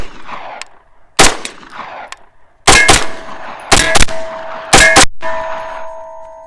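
Loud, sharp gunshots from a Grand Power Stribog pistol caliber carbine on a range, fired as a single shot followed by spaced pairs and bursts, each crack ringing briefly with a metallic clang.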